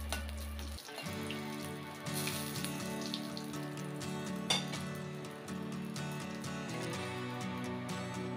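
Two dried red chilies frying in a pan give a quiet, steady crackling sizzle with scattered pops, close and continuous throughout with no talking.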